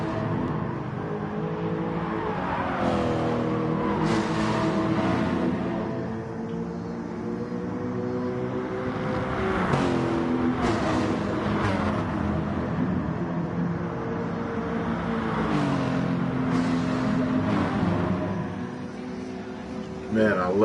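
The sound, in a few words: race car engine in GT Sport video game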